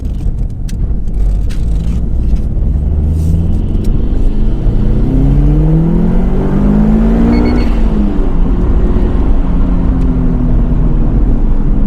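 A 2002 Subaru WRX STi GDB Prodrive Edition engine revs up to 7,000 rpm while driving, a loud close rumbling drone that rises steadily in pitch over several seconds, then settles.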